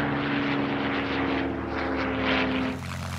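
A Hawker Hurricane fighter's propeller engine drones through the air, a steady tonal hum with rising and falling rush, fading near the end.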